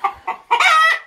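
Two short clucking calls followed by a longer, loud crow-like call from a nearby rooster, with no other sounds around it.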